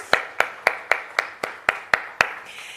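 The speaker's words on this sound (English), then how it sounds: "A round of applause for all our sponsors, please." About nine evenly spaced, sharp hand claps ring out close and clear, one person clapping in a slow steady rhythm at a conference launch, with no talk over them.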